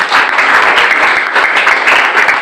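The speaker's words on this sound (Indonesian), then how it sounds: "Kasih tepuk tangan yang terbaik buat." A church congregation breaks into loud, sustained applause, a close, dense roar of many hands clapping without pause.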